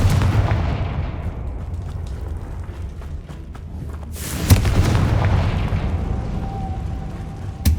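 Confringo blasting-curse explosions in the Hogwarts Legacy video game, heard as heavy booming bursts over a dense low rumble, with a sharp loud blast midway and another at the end.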